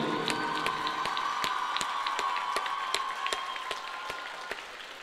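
Steady applause from an audience at a poetry recital, many hands clapping continuously at a moderate level with no voices over it.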